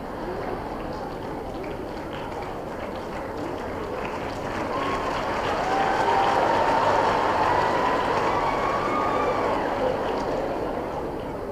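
Sustained applause from a large audience at Ilaiyaraaja's 75th birthday celebration at Ethiraj College, a dense wash of clapping that swells louder midway and holds steady with no voices on top.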